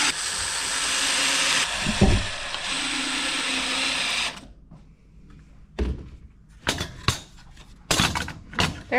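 A power drill driving 1-inch screws into wood, a steady loud whir for several seconds, then stopping, followed by several short bursts of drilling and knocks at close range.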